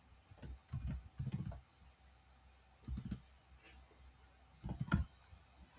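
Computer keyboard keys tapped in short clustered bursts while entering a variable name, separated by pauses, close and fairly quiet.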